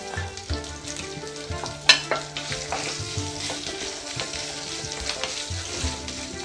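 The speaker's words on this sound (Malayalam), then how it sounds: "ഒന്ന് നല്ലോണം ഒന്ന് വഴറ്റിയെടുക്കുക" Chopped coconut sautés in oil left over from frying, giving a steady, close sizzle with scraping stir strokes and one sharp clatter near the start.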